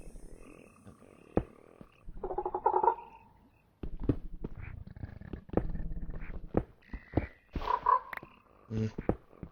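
Frogs croak in the video game Minecraft SevTech Ages, in short, irregular croaks mixed with other game sounds, clicks and footsteps, with several bursts over the span.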